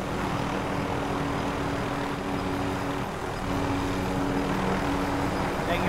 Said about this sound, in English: Another helicopter!